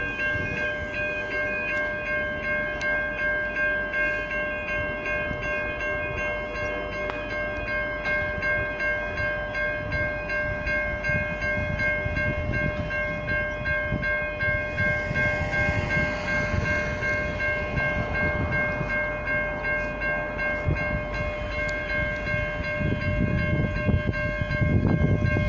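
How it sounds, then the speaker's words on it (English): A V/Line N class diesel locomotive pulls into South Geelong station, a steady loud engine drone with strong humming tones that builds as it draws near, and rail clatter rising toward the end. "Here comes the N class point in the South Geelong."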